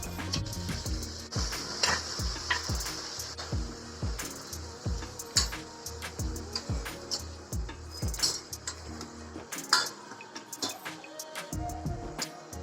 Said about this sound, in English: Now add the prawn's head and sauté for few minutes.